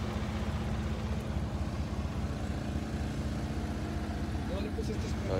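A motorcycle engine runs steadily close by on a ride in Idaho, a continuous low rumble holding an even idle throughout, with faint voices under it.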